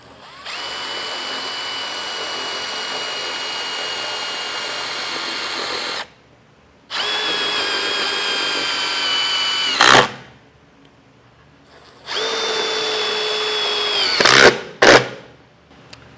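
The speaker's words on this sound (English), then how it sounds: "we can now put in our self-tapping screw. I'm using a 5/16 bit. And I'm going to get these in this arm here." A power drill fitted with a 5/16 bit drives self-tapping screws into an RV slide-out awning arm on a 2016 Fleetwood Bounder. It plays as three loud, close, sustained whirring bursts with pauses between them, rising as each screw seats.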